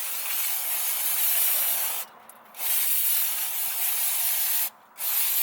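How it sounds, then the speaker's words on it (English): Brake cleaner hisses from an aerosol can onto the parking brake assembly of a Honda, a steady close spray broken by two brief pauses, with no voices. "I'm going to use brake cleaner"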